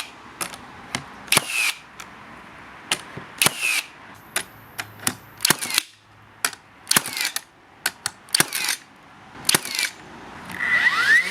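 Cordless framing nailers from DeWalt, HiKoki and Milwaukee fire nails through 40mm calophyllum and Amora wood, loud sharp bangs in irregular quick bursts, some paired, with faint whirring between shots.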